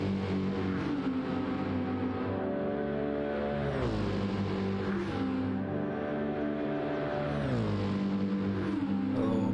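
A GT race car at Spa during 24-hour qualifying holds a continuous, loud engine howl, rising through the gears with brief drops in pitch at each shift, heard close with no talk.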